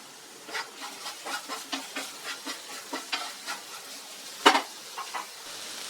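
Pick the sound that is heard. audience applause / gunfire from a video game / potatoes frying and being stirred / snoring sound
potatoes frying and being stirred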